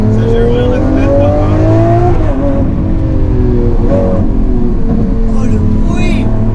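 A loud Lamborghini Aventador SVJ engine with a changed exhaust drones and revs with rising and falling pitch, close by, while voices talk over it.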